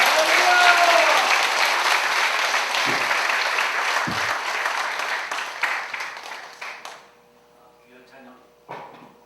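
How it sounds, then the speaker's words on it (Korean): A large church congregation at a revival meeting applauds loudly and steadily, then the clapping fades out, leaving a few scattered knocks and quiet room sounds. "박수로 맞이하시겠습니다."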